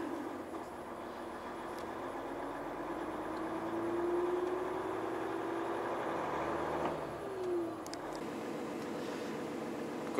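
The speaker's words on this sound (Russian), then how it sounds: "Он троит, хрюкает, и обороты неустойчивые." A car engine idles roughly with a misfire and unstable revs, a continuous low uneven drone with the pitch drifting up and sagging back, moderately loud and heard alone.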